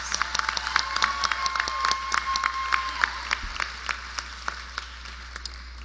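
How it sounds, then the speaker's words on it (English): A graduation crowd at a college prep ceremony gives a round of applause, many hands clapping briskly with a few sharper, closer claps standing out, and a faint whistle or tone early on, gradually thinning toward the end. "So can we give number 1 and 2, Valerie Torn and Salute, from a round of applause."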